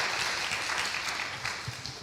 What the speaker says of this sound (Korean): 격려의 마음으로 다시 한번 박수 한번 하시겠습니까?